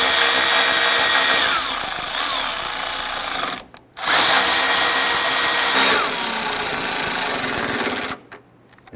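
A power drill snugs down bolts on a 1999-2004 Jeep Grand Cherokee 4.7L V8 during radiator work, whirring loudly in two long bursts separated by a brief pause, then cutting off near the end.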